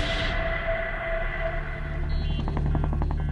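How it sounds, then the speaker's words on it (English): A Bell 47 helicopter runs steadily up close, its engine droning while the rotor's rhythmic thumping grows more pronounced toward the end. "the iconic helicopter from the Korean War"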